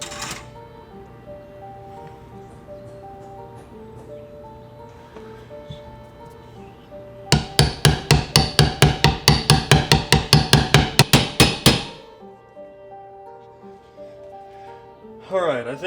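A rapid run of about twenty sharp metallic hammer blows drives a new input shaft bearing into a D series transmission, close and loud, framed by quieter shop background before and after.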